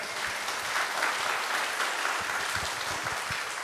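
A church congregation claps after a vocal performance by an opera singer at a testimony service, steady dense applause filling the room at moderate volume and holding evenly without letting up.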